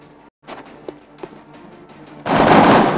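Soldiers open fire in the XCOM: Enemy Within game on Android: a few faint taps, then a sudden loud, sustained burst of close gunfire at the end.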